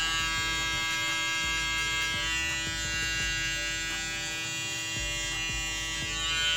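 An Instinct hair clipper set as a close trimmer buzzes steadily at close range, a bright electric hum with faint ticks as it works over small areas, heard alone.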